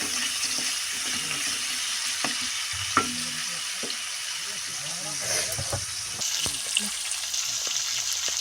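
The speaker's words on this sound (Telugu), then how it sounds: "ఇదిగోండి పక్కన అయితే నూనె అయితే కాగుతుంది ఇప్పుడు కూడా అయితే వేసేస్తున్నాను" Aloo bondas bubble and sizzle steadily in a pan of hot oil, a continuous close frying hiss with occasional louder pops and a scrape, under faint voices.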